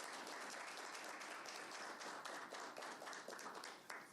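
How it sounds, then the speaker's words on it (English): An audience claps for a government tourism official, a continuous dense burst of applause that stays fairly even before tapering off at the end. "Let's clap for him."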